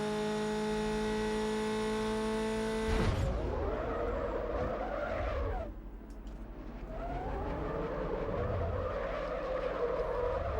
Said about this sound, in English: I did also step on the brakes for a moment there.